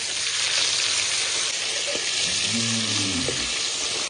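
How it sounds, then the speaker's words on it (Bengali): Tilapia fish fry in hot oil with a loud, steady crackling sizzle that never lets up, and a faint voice-like murmur surfaces briefly in the middle. "তেলটা গরম হয়ে গেছে এবার এক এক করে মাছগুলো ভেজে নেবো"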